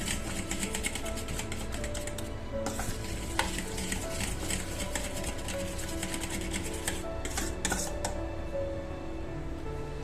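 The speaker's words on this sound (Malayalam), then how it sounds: "നന്നായിട്ട് ഇതിനെ ഒന്ന് ഇളക്കി കൊടുക്കുക" A fork briskly stirs prawn batter in rapid, continuous rhythmic tapping and swishing, dense and close throughout with a couple of louder clinks; nobody speaks.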